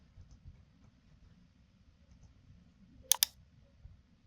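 A computer mouse clicks twice in quick succession, sharp and close, in an otherwise quiet room during Autodesk Revit Architecture 2024 work.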